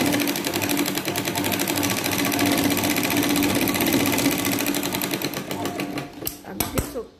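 A sewing machine runs steadily for several seconds, stitching the seam of a lined katori blouse, with a fast, even mechanical rattle that stops near the end into a few separate clicks and knocks.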